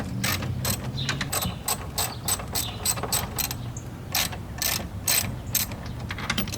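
A ratchet wrench loosens bolts on an SR20-swapped Nissan 240SX, giving rapid, close clicking bursts in irregular runs of strokes with no talking.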